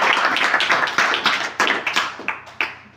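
Applause for a correct answer at a children's general-knowledge quiz contest, with a loud burst of hand claps that thins into a few separate, sharp claps toward the end.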